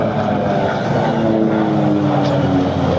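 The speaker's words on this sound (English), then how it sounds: "Listen to that Pratt & Whitney engine from Nelly as she banks past us" A loud Pratt & Whitney radial-engine P-47 Thunderbolt droning close by as it banks past over the beach at an air show, a steady, throaty propeller roar that holds for the whole moment.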